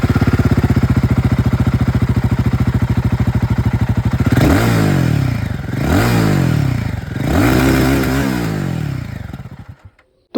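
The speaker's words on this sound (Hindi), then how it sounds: "चलिए अब यहाँ पर रॉयल एनफील्ड गुरिल्ला 450 को भी सुन लेते हैं।" A Royal Enfield Guerrilla 450 motorcycle with a DOHC engine runs close by, a steady throbbing idle followed by three rising revs that fall back, then the engine cuts off.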